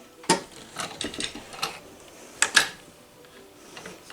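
A vintage Dressmaker sewing machine's push-button reverse works with a handful of sharp mechanical clicks and clacks, close and fairly quiet, the last two snapping together in quick succession.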